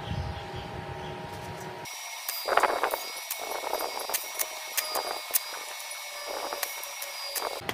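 A car spoiler is being welded, with a steady high buzzing hiss and crackle that starts abruptly and continues with uneven bursts, loud and close, with no talking.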